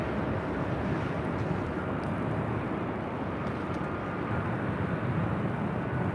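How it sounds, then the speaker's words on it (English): Singapore Airlines jet at LAX spooling up for takeoff, a broad continuous roar of engines heard from a distance with wind noise, steady and unbroken with no talk. "Singapore Airlines heading back to Tokyo Narita, flight 11 lighting up"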